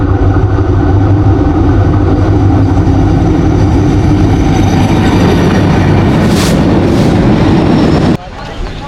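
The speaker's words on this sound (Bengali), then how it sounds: "আরেকটা মালগাড়ি আসতেছে পিছন থেকে" A goods train rolls past close by on a railway line near Feni in Bangladesh, a loud, continuous rumble and clatter of wagons that cuts off abruptly near the end.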